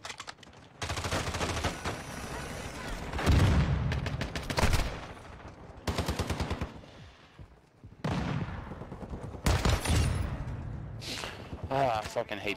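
An EBR single-fire rifle shoots in a video game, loud spaced shots repeating in bursts with brief pauses between them, while a player talks excitedly throughout.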